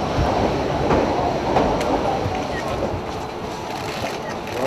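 Rumbling broadband rail noise from an express passenger train arriving in Gyumri, Armenia, heard as a steady, fairly loud roar with faint mechanical clatter throughout.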